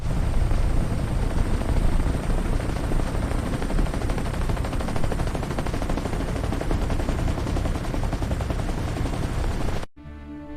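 An army helicopter roars loudly and steadily with a dense rotor chop for nearly ten seconds before cutting off abruptly, leaving a quieter tail; no talking is heard.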